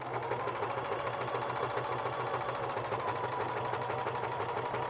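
A sewing machine runs continuously on a straight stitch along a quilt strip, its rapid even needle chatter and motor hum steady and close throughout, with no talking.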